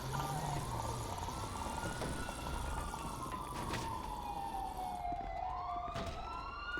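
Wailing emergency siren in a first-responder video game, a steady rising and falling tone sounding continuously and fairly loud over a busy background of game noise.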